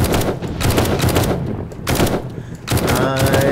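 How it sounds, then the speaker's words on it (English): SMG and pistol fire in a zombie horde-night video game, loud rapid bursts of shots in three clusters separated by brief lulls, punchy and close. "SMG and my pistol are my main weapons"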